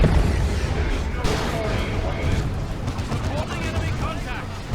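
Leman Russ tank cannon firing during a Dawn of War 2 Retribution match, heard as repeated booming gunfire and explosions in a dense, loud battle mix with speech over it.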